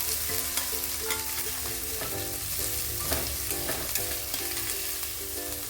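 Two large chopped onions fry in a pan for methi matar malai, a steady crackling sizzle broken by occasional scrapes and knocks of stirring, close and continuous with no talk.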